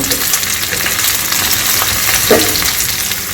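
Onions sauté in a pan for a South Indian kaara chutney, a loud, steady, close-up sizzle with a dense hiss throughout and a single stirring scrape near the end, and no voice.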